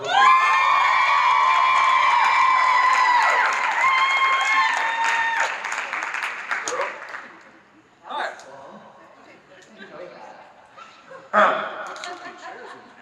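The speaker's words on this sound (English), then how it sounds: "Make some noise, clap it up for Patrick John." A convention panel crowd at Epic Cons Chicago's One Chicago panel applauds and cheers for Patrick John, with loud, dense clapping and whoops for about seven seconds before it fades and a voice starts talking.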